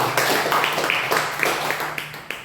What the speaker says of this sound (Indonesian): Tepuk tangan buat Bapak yang ada di sini.